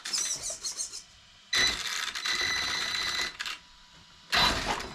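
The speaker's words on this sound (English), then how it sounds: "listen to that servo" Steering servo on a Losi LMT monster truck whirring in short high-pitched electric bursts, close by, with pauses between each burst and no talking.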